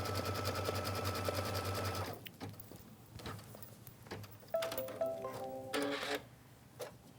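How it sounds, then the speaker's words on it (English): A sewing machine stitches block-by-block quilting on a stars block of a star-spangled ladder quilt, a fast, even mechanical rattle for about two seconds, then quieter, intermittent whirring and ticks. "we're basically just doing a block by block quilting on our stars block"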